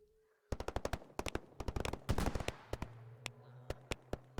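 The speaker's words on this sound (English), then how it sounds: "At this point we can hear the gunfire from the pump station." Machine-gun fire comes from a pump station in the S.T.A.L.K.E.R. GAMMA video game. Rapid bursts of sharp shots rattle in uneven clusters after a short quiet start, followed by scattered single cracks and a low droning tone.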